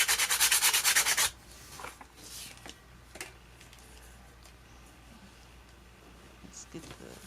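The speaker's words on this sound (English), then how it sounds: "I'm not going to worry about the paint on the edges because I'm going to sand it" A painted gourd's edges are sanded by hand, giving a loud, steady rhythmic rasping scrub for just over a second, followed by quieter rubbing and handling noises while a person talks.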